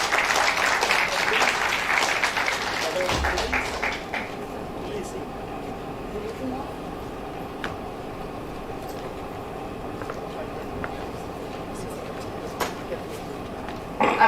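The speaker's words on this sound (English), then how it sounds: "Please welcome, sir, with a huge round of applause." An audience at an international academic conference applauds to welcome a university vice-chancellor to the stage, a dense clapping that lasts about four seconds before fading into the quiet murmur of a large room.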